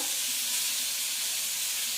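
Potato and okra frying in a pan with salt and turmeric, a dense, even hissing sizzle that holds steady and fairly loud throughout, with no voices.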